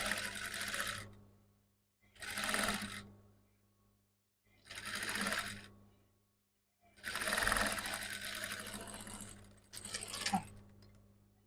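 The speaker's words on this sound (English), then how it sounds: "So I'll just go ahead and sew it in the middle." A sewing machine stitches a bustier in five separate bursts, each running a second or two with short pauses between, the fourth run longest, close and fairly loud with a steady low hum underneath.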